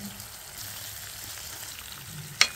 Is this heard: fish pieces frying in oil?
yes